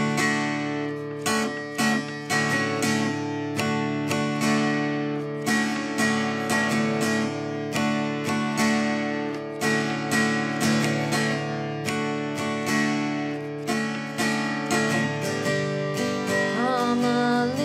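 Acoustic guitar strumming a song in a steady, even rhythm of full chords, close and clear for the whole stretch, with no voices.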